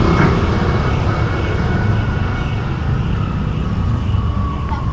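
Congested road traffic in a jam, a dense continuous rumble of idling and creeping engines close by, steady and loud with faint tonal whines over it.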